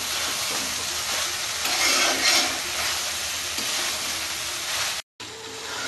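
Chilli chicken sizzling and frying in a pan while it is stirred, a steady hiss close by with scraping stir strokes, cut off briefly near the end.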